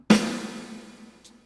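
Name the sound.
snare drum with 80s-style reverb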